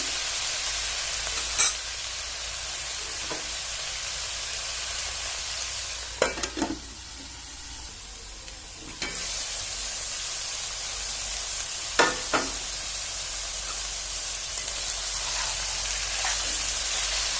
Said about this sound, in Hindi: अब इसे हम 5 मिनट तक चलाने के बाद इसे हम 5 मिनट तक ढककर पकाएंगे